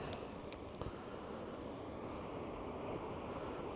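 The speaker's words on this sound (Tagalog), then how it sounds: "Dagat." Sea waves wash steadily on the shore in a continuous broad roar, mixed with wind buffeting the microphone and a few faint knocks near the start.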